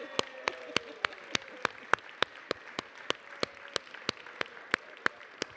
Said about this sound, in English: So we give a round of applause to baby Sanchez and baby Gutierrez.